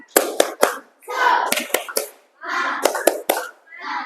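Children in a classroom perform a rhythmic spirit clap, sharp bursts of hand claps in quick patterned groups alternating with kids' chanting voices, loud and close.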